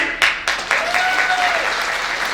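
A crowd at a celebration speech event breaks into loud clapping with a few sharp starting bursts, then sustained applause with a faint tonal cry riding over it.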